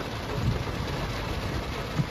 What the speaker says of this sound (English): this rain is too much